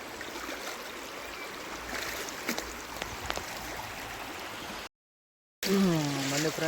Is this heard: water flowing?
yes